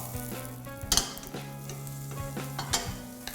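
Hong Kong-style noodles with mushrooms being stir-fried in a pan, a steady close sizzle with sharp scraping stir strokes near the one-second mark and again later.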